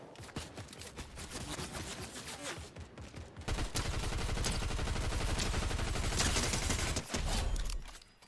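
Rapid automatic gunfire in Fortnite, dense bursts of overlapping shots that grow louder and more continuous midway, with a brief break before the volley resumes and cuts off.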